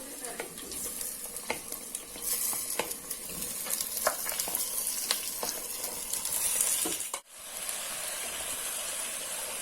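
One kilo of mutton fries in a pot with a dense, continuous sizzle and repeated scraping stirs, then drops off briefly before the frying noise comes back just as steady.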